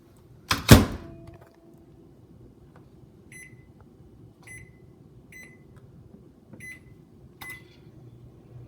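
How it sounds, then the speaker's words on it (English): A microwave door thuds shut, followed by a low steady hum as a chocolate mug cake cooks, with a few short electronic beeps at regular intervals. "Put your mug cake into the microwave and do it for 2 minutes and 30 seconds."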